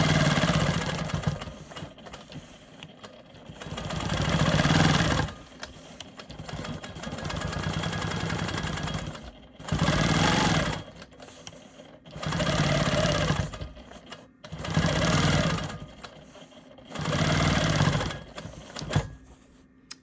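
A Quilt Maker Pro 20 quilting machine stitches simple boomerang lines, its steady rapid motor hum running in repeated bursts of a couple of seconds separated by short pauses, close and fairly loud.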